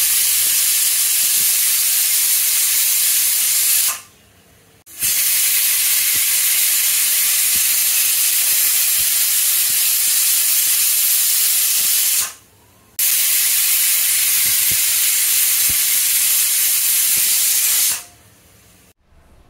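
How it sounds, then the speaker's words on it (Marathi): A pressure cooker whistles as green moong dal cooks, a loud, sustained steam hiss that stops abruptly twice and then again near the end, with close-up rattling jets of steam in between. "आता कुकरच्या शिट्ट्या सुद्धा होत आहेत।"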